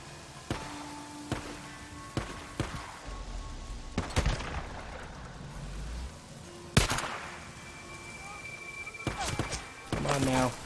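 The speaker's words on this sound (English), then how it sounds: "Who dares fire upon me?" Gunfire in the survival game Days Gone: several sharp, separate shots spread irregularly over about ten seconds, with background game noise and someone talking between some of them.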